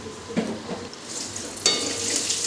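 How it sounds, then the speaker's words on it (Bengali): Bay leaves and whole garam masala hit hot oil in a kadai used for prawn malai curry, giving a rising close sizzle with a few stirring scrapes and a sharper burst of frying midway. "এবার ওই কড়াইয়ে আর একটু তেল দিয়ে দিয়ে দিচ্ছি তেজপাতা এবং গোটা গরম মশলা"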